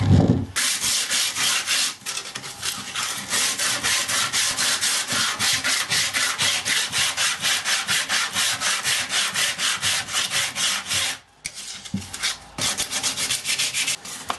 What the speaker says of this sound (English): I'm going to start with 60 grit sandpaper.